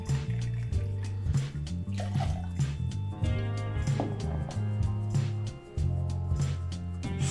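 Gold rum pours into a glass for an Acapulco cocktail, a steady liquid stream running beneath loud background music.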